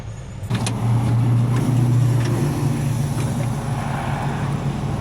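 A truck's engine idles with a steady low rumble while it backs up at a job site to be hooked up, a constant drone close by with no talk.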